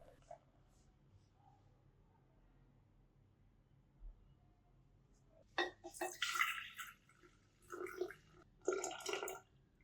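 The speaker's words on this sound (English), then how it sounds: "Pour 200 milliliters of beer into a cup." Beer splashes into a cup in bursts after a quiet start, a close gurgling pour that stops and restarts a few times.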